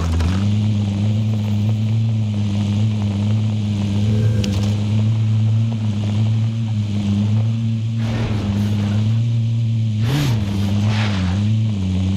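A car drives in the shooter game Call of Duty: Warzone Pacific, its engine a loud, steady low drone that swells and revs a couple of times, with thumps and clatter over it and no talking.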